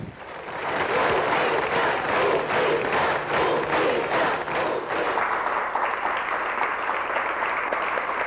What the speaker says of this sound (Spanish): después de los aplausos por el informe